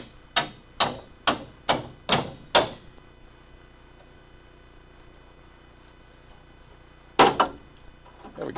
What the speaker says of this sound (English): I gotta drive at it with the hammer and the chisel